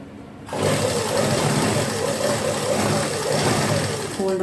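An electric sewing machine stitching salwar fabric starts up after a brief pause and runs at a steady, fast, whirring hum close by until the end.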